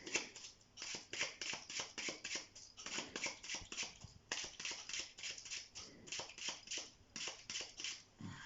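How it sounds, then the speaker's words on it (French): A deck of playing cards is shuffled by hand in a steady run of quick papery riffles and flutters, close and fairly quiet, repeating rhythmically without talk. "On va mélanger le jeu."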